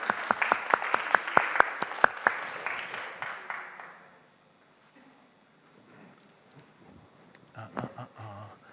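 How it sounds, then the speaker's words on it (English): Audience at a lecture on adrenal glands claps for a volunteer, a brief burst of close, sharp hand claps over about four seconds that fades to quiet room tone, with faint shuffling and a voice toward the end. "Should we give her a little round of applause?"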